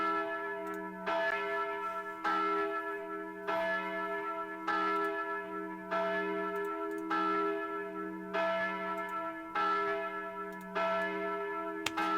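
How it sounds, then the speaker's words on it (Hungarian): Church bells ring out at noon in Hungary, with about ten evenly spaced strikes over a sustained humming tone that carries between them. "Kicsit késtek a harangok a Boyman TV-n."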